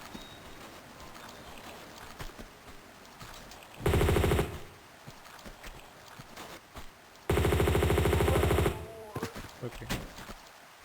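M16 rifle fire in Tomb Raider II, two loud sustained bursts of rapid automatic shots, one short and one longer, cutting over quieter game ambience.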